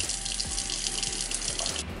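Hands are washed under a running sink tap, with water splashing steadily and close by, a few soft bumps in the flow, before it shuts off at the end.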